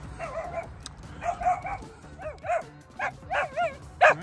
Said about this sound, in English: Do you see a puppy out there?